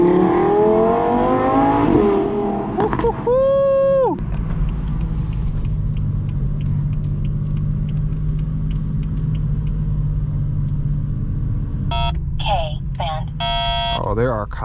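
Straight-piped BMW M4 F82 exhaust rumbling steadily during a drive, with a deep continuous drone throughout, briefly joined by short electronic beeping tones and occasional voices.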